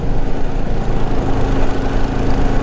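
A Honda Goldwing 1200 motorcycle engine runs loud and close with a dense, rumbling drone under throttle that holds fairly steady throughout, with no voices.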